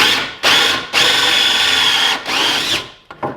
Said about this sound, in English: I like flipping it over and finishing drilling it out from the other side.